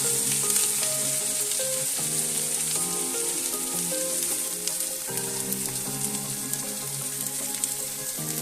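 Ivy gourd (kundru) frying in a pan with turmeric and salt, being stirred; a steady, loud sizzle runs throughout, with light music-like tonal layers over it and no talking.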